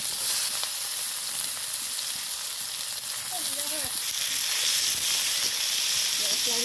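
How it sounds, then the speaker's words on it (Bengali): Onions fry in hot oil with a dried red chili and five-spice seeds, producing a steady, close sizzle and crackle throughout with faint stirring. "ওই তেলেই আমি একটা শুকনো লঙ্কা আর পাঁচ ফোড়ন দিয়ে দিলাম দেখো আমি পেঁয়াজ দিয়ে দিলাম"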